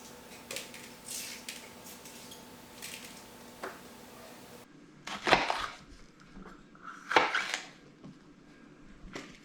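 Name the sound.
knife cutting red peppers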